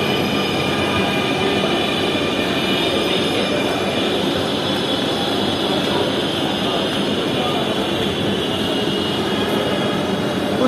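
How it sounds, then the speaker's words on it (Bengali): A crowded Dhaka metro train roars at a steady loud rumble with rail noise throughout, heard from inside or beside the carriage, with people talking underneath. "এই যে আমাদের মেট্রো চলে আসছে"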